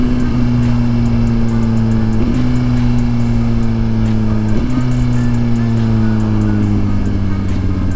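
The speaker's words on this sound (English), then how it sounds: "This bike just sounds so freaking good, man. The best sounding bike I've ever had." A 2023 Suzuki GSX-R1000 sport bike engine holding a steady droning tone while riding, with slight pitch shifts as it shifts or eases off, loud and continuous with wind noise, no speech.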